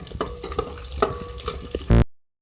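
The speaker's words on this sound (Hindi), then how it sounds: "अब इसमें मैं बादाम, पिस्ते और खोपरे को मैं हल्का सा फ्राई करूँगी" Almonds, pistachios and coconut fry lightly in ghee for a sweet zarda rice dish, crackling softly as a spoon stirs and scrapes the pan in short strokes, ending in one loud knock.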